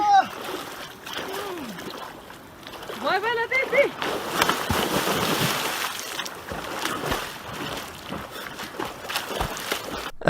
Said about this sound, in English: The ducks actually refused to go in the water until volunteers started throwing them in.